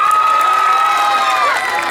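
Audience at a concert in Nepalgunj claps and cheers loudly, a dense crowd roar with a sharp whistle gliding through it.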